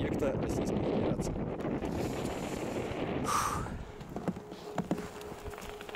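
Heavy wind buffeting the microphone atop a tall, swaying abandoned tower in Russia, loud at first then easing, with a few scattered knocks afterward.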